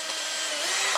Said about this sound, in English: the drill bit sinks into that hole left by the bigger drill bit